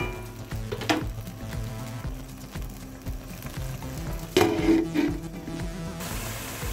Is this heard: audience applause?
no